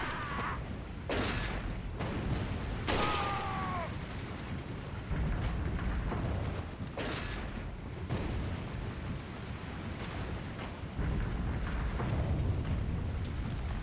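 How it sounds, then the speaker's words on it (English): Fire-breathing dragon statues in Resident Evil 4 blast out loud, roaring gusts of flame in several bursts over a constant rumbling game backdrop, with a short creaking, whistling tone in between. "these dragon statues, well, you'll see. Yeah, they breathe fire"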